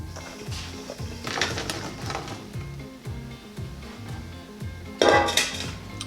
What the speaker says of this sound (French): C'est le temps de rajouter les croûtons.